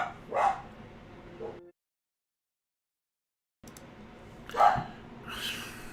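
A dog barks in a video game, a pair of short, sharp calls near the start and another bark after a silent gap, with game sounds around them.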